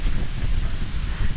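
Steady wind buffeting the microphone outdoors at a cafe in Binangonan, Rizal, a continuous low rumble with gusty swells throughout.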